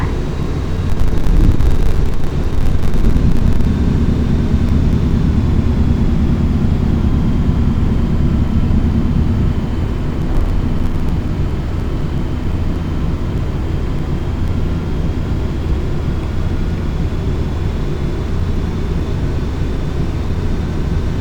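Boeing 737 cabin or cockpit during climb after takeoff with gear retracted, a loud continuous broadband roar of engines and airflow, steady throughout with a faint high whine.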